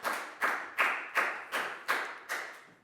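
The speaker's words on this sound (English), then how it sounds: "a big round of applause for Pat" A class claps for a pupil, with six loud, evenly spaced bursts of applause that fade quickly after each one.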